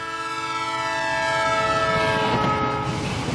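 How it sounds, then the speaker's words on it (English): A train horn blows loudly and steadily as the train passes close by, its rich multi-tone chord sustained throughout with rumbling rail noise underneath. "if you've ever heard a train going by blowing its whistle"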